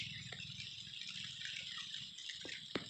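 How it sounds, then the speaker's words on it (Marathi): Steady rain keeps falling over a rural village farmyard, a continuous soft hiss with scattered close drips and a couple of sharper splashes near the end, fairly quiet overall and with no talking. "पाऊस चालूच आहे अजून बी"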